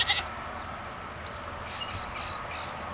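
A goat gives a short bleat at the very start, followed by quiet farmyard background and a few faint further bleats, with no talk in between.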